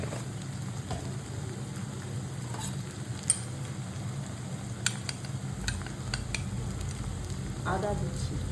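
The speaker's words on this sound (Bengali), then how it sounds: "তাই মশলাটা ভালো করে আমি কষিয়ে দিচ্ছি।" Mutton with spice masala stir-fried in a pan, a soft continuous sizzle broken by occasional scraping stirs and light clinks, close and fairly quiet.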